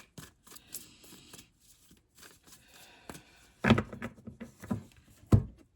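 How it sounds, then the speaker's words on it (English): Soft papery flicks and riffles of a tarot deck being shuffled close by, with a few sharper taps and pauses in between. "I premeditated and cleaned the deck and shuffled it"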